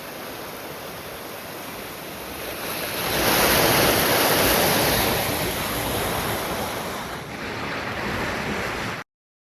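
River water flowing beneath a bridge, a continuous rushing roar that swells louder midway then eases slightly, with wind noise mixed in, before cutting off.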